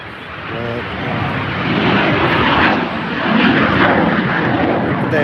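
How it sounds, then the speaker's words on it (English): A jet airplane flies overhead, its loud, broad engine roar swelling and holding steady over several seconds, with a brief faint tonal blip near the start. "Look at that jet go, guys."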